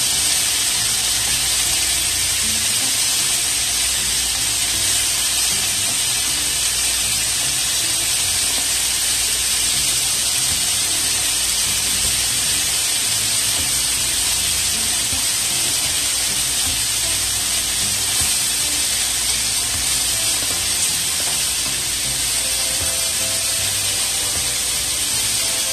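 Scallops cook in a very hot pot for a curry, producing a steady, bright hiss and sizzle that runs unbroken and fairly loud, with no voices over it.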